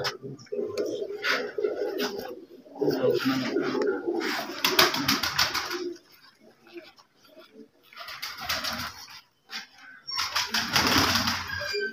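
Pigeons coo in soft, repeated bursts close by, with people talking over and between the calls and occasional fluttering wings.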